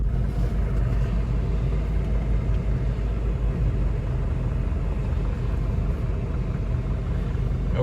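A 1979 Mercedes 300D W123 diesel car driving, a loud continuous low rumble of engine and road noise from inside the cabin, steady throughout with no talk.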